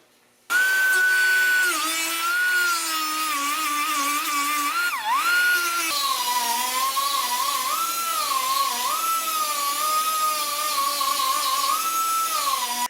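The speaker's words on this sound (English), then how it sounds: "now I just have to grind the holes out back to the previous hole that I had" A power tool grinds out holes in a front air strut bracket for a 1976 Mazda RX-5 Cosmo, a loud steady high-pitched whine with shifting pitch as the bit bites, a brief dip midway, alone with no talk.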